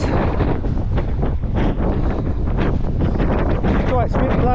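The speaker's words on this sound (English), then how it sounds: "Quite a bit blowy." Strong gusty wind buffets the microphone on an exposed pedestrian-only stretch of the Snowdonia Slate Trail, a loud continuous roar and rumble lasting throughout with no pause.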